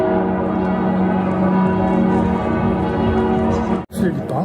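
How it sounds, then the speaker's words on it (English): Church bells chime across Salzburg, sustained ringing tones layered under a steady hum of background noise before a sudden cut and a few scattered sounds. "All sorts of chimes ringing out everywhere"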